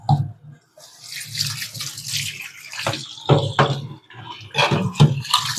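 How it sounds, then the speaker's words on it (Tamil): Tap water splashing in a sink while raw chicken is washed by hand, an uneven run of close splashing and gurgling that rises and falls in bursts with short gaps. "டேப்பை திறந்து நம்ம நல்லா வாஷ் பண்ணி எடுத்துக்கணும்."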